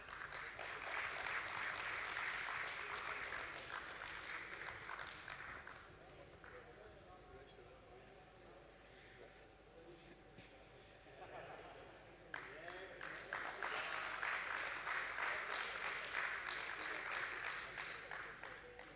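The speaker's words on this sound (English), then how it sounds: "Let's have a round of applause for him" Applause for an independent director at a stock exchange listing ceremony, a crowd clapping at the start and again after a lull, with talk and background sound in between, distant and moderate.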